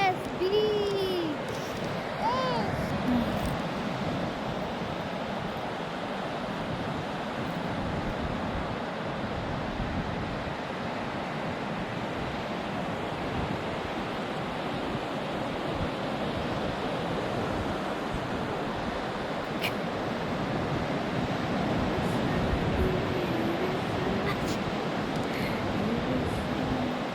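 Ocean surf rolls onto the beach at Lorne: a steady, broad wash of breaking waves and wind noise fills the whole stretch, with faint voices occasionally surfacing in the background.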